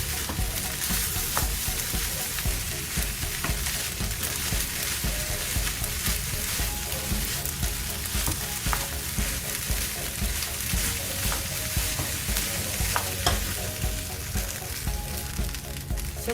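Corned beef fried rice seasoned with rock salt sizzles steadily in a pan, with soft, intermittent stirring and scraping close by.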